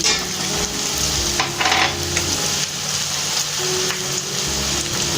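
Onions already browned fry with a spoonful of garlic paste in a pan, a loud continuous sizzle close up with occasional stirring scrapes.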